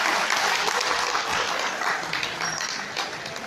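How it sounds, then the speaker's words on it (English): A dense wash of audience applause fills a dinner-event hall, steady and loud throughout, then easing slightly toward the end with no voices over it. "Let's give a round of applause."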